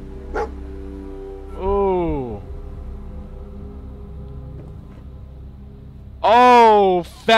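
A dog barking in the video game Fallout 4, with two separate loud howling barks, the second longer and closer, over a quiet steady game background hum.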